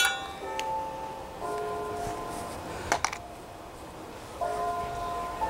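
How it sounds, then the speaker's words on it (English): Town bells ring at noon outdoors, a few ringing tones swelling and fading in separate bursts with a couple of sharp clinks in between, moderately distant and without talk. "you may have heard those bells before. That's my town, town bells. They ring at noon."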